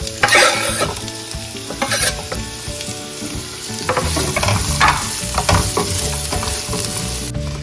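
Black cumin seeds, dried chillies and onion sizzle in hot oil in a pan while being stirred, a loud, steady crackling fry with scraping clatters of a utensil throughout.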